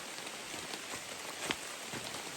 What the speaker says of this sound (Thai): ตอนนี้เลยโดนพายุเต็มๆนะฝนตกหนักมาก